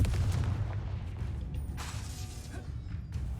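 Confringo and Depulso spell blasts in Hogwarts Legacy, low rumbling impacts and mechanical thumps with a few sharper bursts, moderately quiet and continuous.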